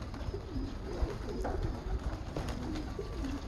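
Soft pigeon coos repeat several times over a steady background murmur inside a pigeon loft, with occasional faint chirps mixed in.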